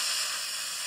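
Hard, steady blowing straight into an iOS phone's microphone to trigger an app sound effect, a continuous loud rush of breath noise with no pauses.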